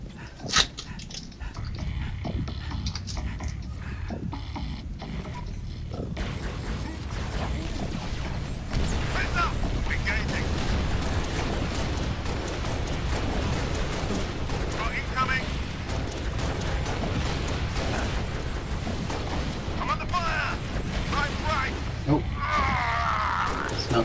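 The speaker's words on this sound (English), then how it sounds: "he's throwing so many grenades and then plasma bombs" Grenade and plasma bomb explosions in Halo: Reach co-op combat, a dense, continuous wash of blasts and rumbling detonations at loud, sustained level, with players talking throughout.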